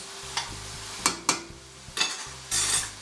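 Yellow onions frying in a pot for shrimp creole, a steady sizzle broken by several sharp scrapes and knocks of a spoon stirring, close by, with a louder hiss surging near the end.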